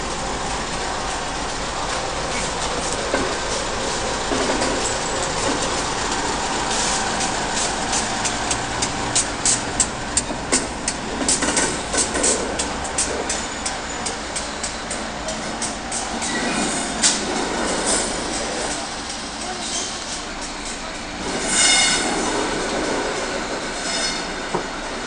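Indian Pacific train carriages roll along the rails as they are pushed, with a continuous rumble, rhythmic clicks over joints and occasional wheel squeal, fairly loud throughout.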